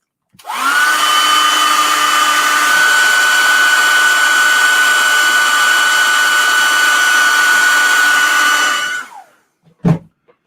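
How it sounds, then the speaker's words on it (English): A handheld blow dryer runs steadily for about eight seconds after a quick start-up, with a constant whine and a slight pitch rise early on, then switches off, followed by a brief clunk, with no talking. "And then I'll hit this one last time with this blow dryer."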